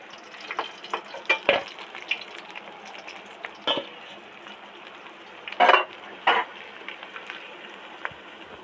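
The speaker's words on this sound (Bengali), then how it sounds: "এবার তেল থেকে ছেঁকে উঠিয়ে নিচ্ছি।" Fried katla fish pieces are lifted from hot oil with a strainer: a soft sizzle underneath, punctuated by several scattered metallic scrapes and clinks of the utensil against the pan, two louder ones near the end.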